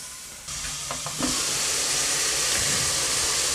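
Steam hisses steadily from a covered pot of Bahamian lima bean soup with tomatoes and celery as the lid is lifted, a broad, close, continuous rush that swells after a soft start and holds to the end.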